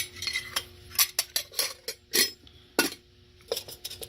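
Titanium stove parts from a Stanley adventure cook set clink and rattle in a series of sharp, close metallic chinks, some clustered and others spaced apart, with quiet pauses between them.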